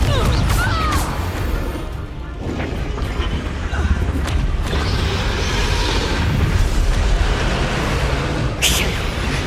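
A Confringo fire spell explodes in Hogwarts Legacy during an arena fight, a dense roaring blast with crackling bursts and rumbling booms over continuous game noise and music.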